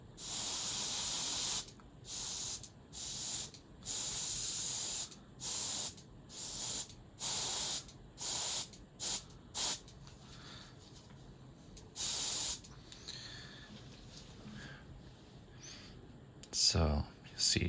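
A spray can of primer is used on a BattleTech miniature in a series of short, sharp hissing bursts of varying length, close by, separated by brief pauses, with a rattle and handling noise at the end.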